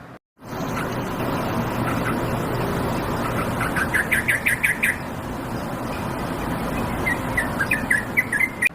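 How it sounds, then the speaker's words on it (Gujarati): A bulbul sends out bursts of short, bright chirps, first in a quick series and then again a few seconds later, over a constant outdoor noise bed. "બુલબુલનો અવાજ કેવો હોય છે?"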